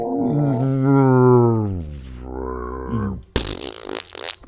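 A voice imitates a dying foghorn with a long, loud, wavering drone that sags and breaks off, then a sudden harsh, noisy burst like a big fart closes it out.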